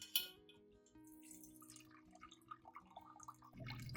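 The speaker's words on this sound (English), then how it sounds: "I will filter out all the cinnamon residue, keeping only the clear liquid" Cinnamon water drips through a filter, with soft, irregular droplet plinks over a quiet hum and a small splash of liquid near the end.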